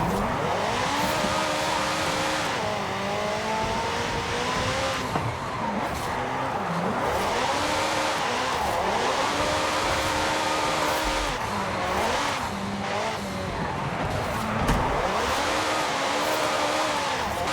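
Tuned 900-horsepower McLaren 650S coupe drifting in Forza Horizon 5, its engine note rising and falling continuously with repeated tire squeal and skidding, loud and sustained with no speech.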